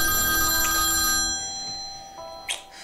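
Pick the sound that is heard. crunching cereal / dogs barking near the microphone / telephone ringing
telephone ringing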